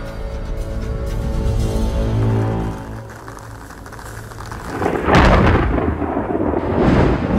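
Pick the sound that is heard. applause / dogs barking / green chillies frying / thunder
thunder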